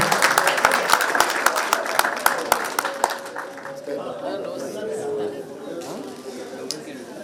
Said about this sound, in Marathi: पुन्हा एकदा जोरदार टाळ्या वाजवा